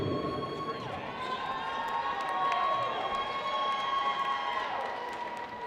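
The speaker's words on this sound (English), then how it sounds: "one more big round of applause for these two teams and the great game they just played" Gym crowd at a boys high school basketball game between Edmond Memorial and Midwest City, applauding and cheering both teams after the final whistle. A steady roar of clapping, shouts and whistles holds throughout, with sneaker squeaks over it.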